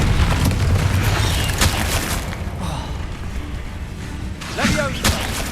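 Confringo fire-spell blasts in Hogwarts Legacy thump and boom through a loud fight, with whooshing bursts layered over continuous battle noise and brief voiced shouts.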